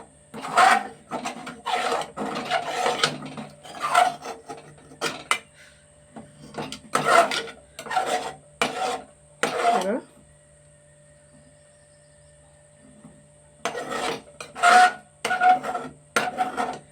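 Burnt rice is scraped off the bottom of a pot loosened with water, giving bursts of rasping, rubbing strokes with a quiet stretch in the middle, and speech may be mixed in.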